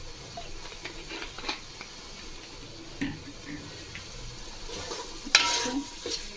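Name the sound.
spice paste being sautéed in oil for chicken biryani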